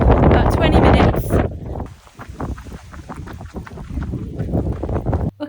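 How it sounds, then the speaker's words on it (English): Strong gusts of outdoor wind buffet the microphone, roaring and rumbling unevenly throughout, loud and close with no clear break. "oh my gosh, it's so windy"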